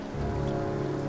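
Steady, dense video game rain patter with a low rumbling hiss underneath, continuous and fairly loud throughout, from the game Heavy Rain.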